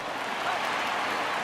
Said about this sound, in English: the crowd makes some noise for a good defensive play